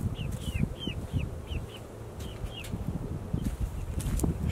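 A chicken near its coop gives a run of short, rising clucks and chirps at moderate distance, repeated every fraction of a second over a busy rustling background with no talk.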